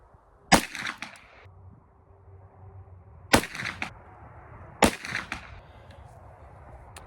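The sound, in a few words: Ruger LC carbine gunshots with Underwood ammo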